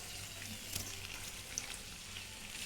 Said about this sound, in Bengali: এটাকে একটু ভালোভাবে ভেজে নিতে হবে